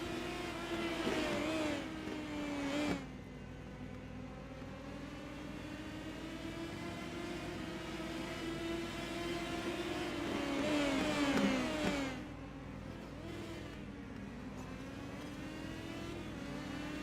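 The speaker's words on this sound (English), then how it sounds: "We got another car coming down pit road." Race car engine in the iRacing video game at New Smyrna Speedway, a steady, fairly loud revving drone that swells and falls as the car comes down pit road, with no talk over it.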